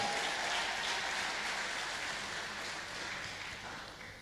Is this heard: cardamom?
no